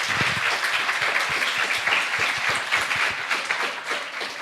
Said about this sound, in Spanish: Les pido un aplauso para las dos artistas que nos acompañan.